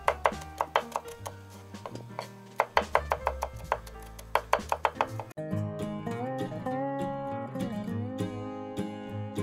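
Two or three garlic cloves are chopped finely with a knife for a tomato-marinated shashlik, giving quick, fairly even taps on a board for about five seconds before background music takes over.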